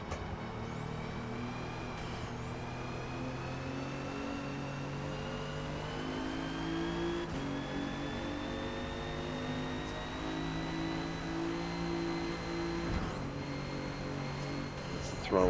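A 2017 Alfa Romeo Giulia engine in the Forza Motorsport video game, racing at Hakone, revs steadily and climbs through gears with clear shift dips, a sustained close drone.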